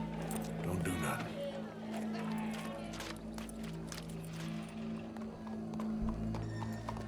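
Horse hooves clip-clop steadily in Red Dead Redemption 2, with a whinny partway through, a steady game soundscape underneath and speech layered over the top.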